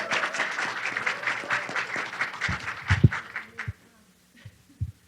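An audience at a happiness symposium talk applauds steadily for a few seconds, the clapping fading out into a few isolated thumps near the microphone.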